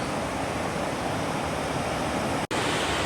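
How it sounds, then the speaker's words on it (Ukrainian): Rushing river water near Yaremche, a loud steady roar of flowing current that continues without pause, broken only by a brief dropout near the end. "а уснула під шум річки"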